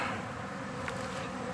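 Honey bees buzzing steadily in a dense, continuous drone during feeding with Ultra Bee supplement, close by with no talking.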